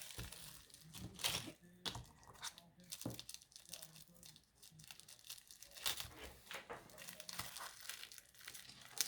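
A newly bought item from a discount-store haul is unwrapped, giving close, continuous crinkling and tearing of packaging with sharper rustling bursts throughout, and a voice speaks softly underneath.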